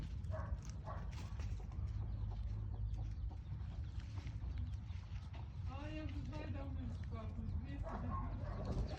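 Laying hens cluck and cackle nearby in a village setting over a constant low hum, with people talking intermittently.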